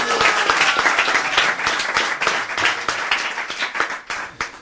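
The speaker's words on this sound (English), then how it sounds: "Yeah, let's have a round of applause for that." An audience at a talk on communications breaks into sustained, lively applause with distinct individual claps, loud and close, tapering slightly toward the end.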